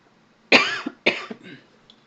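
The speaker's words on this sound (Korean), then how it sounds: "제가 요즘 기침을 너무 자주 해서" Two harsh, close coughs come from a man with a persistent cough, loud against near silence. Each is followed by a brief rasp, and a softer throat sound trails after them.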